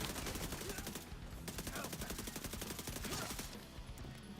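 Rapid automatic gunfire from the video game The Division 2, dense rattling bursts that run almost continuously, loud and close, with a brief pause partway through.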